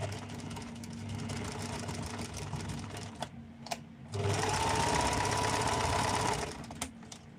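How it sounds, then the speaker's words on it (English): A sewing machine zigzag-stitches along the cut corners of fabric. A steady mechanical whir runs at close range, pauses briefly, then starts again at a faster, louder pace. "And then I'm going to zigzag where I've cut."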